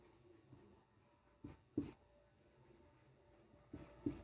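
Pen or chalk writing on a board or page during a physics lesson, with a few short scratchy strokes around 1.5–1.9 s and again near 3.8–4.1 s, faint and close, no talk.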